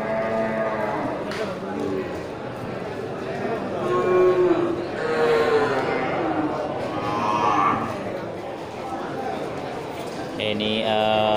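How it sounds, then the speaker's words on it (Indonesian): Simmental cattle moo repeatedly at a livestock market, the long lowing calls rising over a steady crowd murmur and nearby talk. "Ya, untuk jenis sapi simental nih kan."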